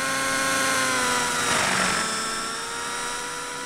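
Electric RC plane motor in the RealFlight 9.5 simulator, a steady high whining drone with layered harmonic tones that swells briefly and then eases down as the model lands; no talk.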